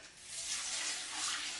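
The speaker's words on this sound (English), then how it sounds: "So now I'm going to put in my water." Water pours into a cooking pot for a turkey stock, a loud, continuous rushing splash heard up close and without talk, holding steady and swelling slightly toward the end.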